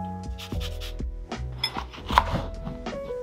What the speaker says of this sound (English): I'm gonna add a little bit of lemon zest just for some brightness.